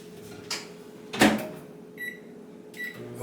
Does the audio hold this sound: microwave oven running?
yes